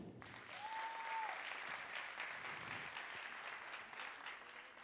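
A theatre audience claps for four apprentice carpenters and masons after their stage performance, sustained even applause building and holding, with a brief whistle-like tone near the start.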